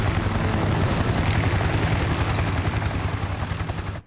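A helicopter flies in a war movie scene, its rotor and engine making a loud, steady, close roar with a rapid pulsing chop that fills the whole stretch before cutting off abruptly at the end.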